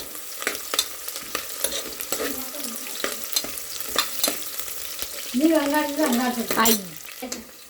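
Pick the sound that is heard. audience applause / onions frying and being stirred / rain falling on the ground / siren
onions frying and being stirred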